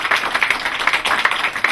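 A room full of people claps in a sustained round of applause for a speaker at a business launch event, a dense, even wash of many hands with small rhythmic swells.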